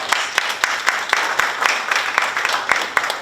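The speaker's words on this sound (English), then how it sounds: "I think that deserves a round of applause." Applause from an audience at a State of Schools address, steady clapping filling the room with sharp individual claps standing out, fairly close and sustained throughout.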